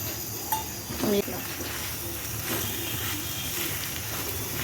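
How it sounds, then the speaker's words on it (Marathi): Whole garam masala spices sizzling as they roast in hot oil in a pan with roasted onion and coconut, a steady soft hiss broken by a couple of brief clinks of a utensil. "असे मसाले तेलात भाजून घ्यायचं"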